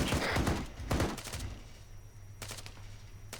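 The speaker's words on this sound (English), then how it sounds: "Getting fire from the church." In Arma 3, gunfire comes from a church: several short bursts of shots at moderate distance, separated by pauses, with a quieter stretch in the middle.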